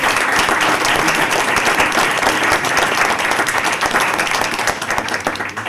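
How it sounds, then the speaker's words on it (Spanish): Loud, sustained audience applause fills a conference panel on Venezuelan prisoners of conscience, dense clapping steady throughout with no talk over it. "quiero pedirles un fuerte aplauso por la valentía"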